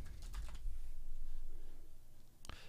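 Quick typing on a computer keyboard, a short run of soft key clicks at the start and another tap near the end, close and quiet with no speech.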